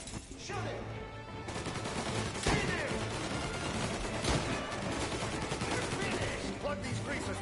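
Rapid gunfire in a Mafia Definitive Edition gunfight, loud sharp bursts and single shots crackling through a busy mix with voices shouting over the action.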